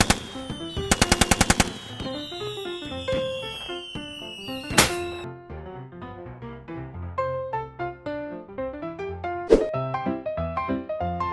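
Chinese fireworks go off nearby in a rapid crackling burst, followed by sharp bangs and whistling streaks, with scattered pops and thuds trailing away.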